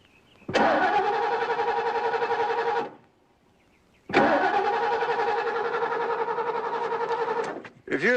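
A car with its coil wire missing cranks without starting, two long bursts of steady starter whirring a couple of seconds apart and close up, with a brief third crank at the end.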